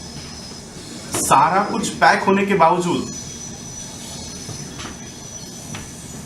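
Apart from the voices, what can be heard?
train passing on railway line behind house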